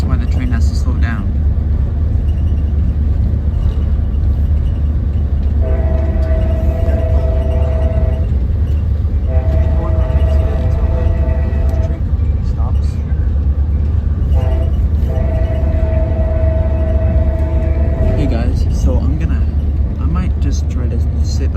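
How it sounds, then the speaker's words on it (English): A rumbling Amtrak Capitol Corridor train slows toward the Martinez station stop, with a loud low rumble under the whole stretch and repeated tonal squeals or hums from brakes or the motor. A voice talks over it. "That's why the train has to slow down."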